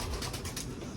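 Soft cooing of pigeons inside a loft, with a steady low rumble and faint fluttering underneath.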